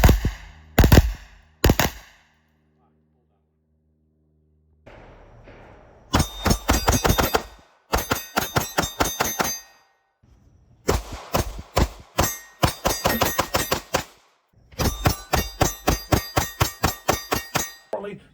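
Gunshots at a shooting range ring off steel targets. Sharp cracks come in rapid strings of doubles and longer bursts, each hit leaving a short metallic ring, with pauses between strings. The shots are loud and close, and no one speaks.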